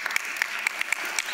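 A church audience claps steadily at a weekend gathering, dense continuous applause with a few sharper, closer individual claps standing out, no voices over it.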